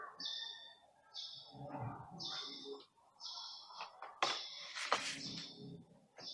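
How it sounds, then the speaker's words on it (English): Birds call near a lakeside Buddhist temple in Udon Thani, a series of bright, repeated chirping phrases close by, with a couple of sharper squawks toward the end over a quiet background. "And birds."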